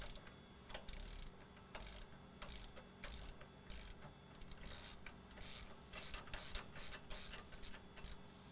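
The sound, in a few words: ratchet removing truck passenger side shock bolts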